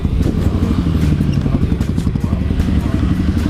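Honda CRF 150L dirt bike engine putters in a rapid, rough rhythmic beat, loud and close, with a clattering edge throughout the short stretch and no speech over it.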